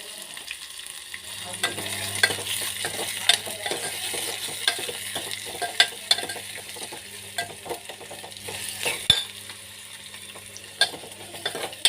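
Onions and green chillies fry with mustard seeds and cumin in a pan, a continuous close sizzle broken by frequent scraping clicks and knocks as a spoon stirs the mixture, with no talking.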